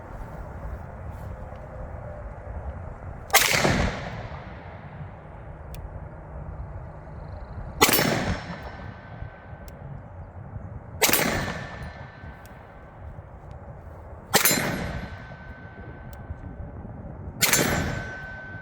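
Five sharp shots from a budget Beretta-style 9mm pistol ring out at uneven intervals outdoors. Each crack is loud and metallic with a short echoing decay, and quiet stretches fall between them.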